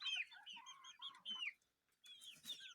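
Hens cluck in short, chattering bursts with a brief pause, close by and fairly quiet, with no talking.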